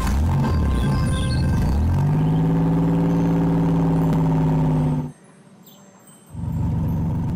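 A cartoon bus engine hums and idles as it pulls up to the stop, a steady tonal drone that cuts out abruptly near the end before returning, with no talk over it.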